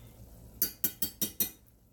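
A metal spoon clinks five times in quick, even succession against a bowl while seasoning is mixed into a pound and a half of ground turkey; bright, close, fairly quiet taps over a near-silent background.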